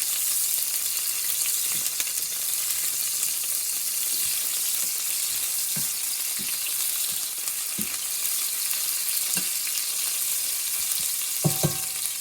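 Garlic and onions lightly fry in a hot pan for gallo pinto, making a constant bright sizzle broken by occasional scrapes and knocks of a spoon, close up and with no talk.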